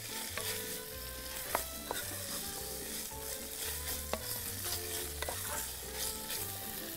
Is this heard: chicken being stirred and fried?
yes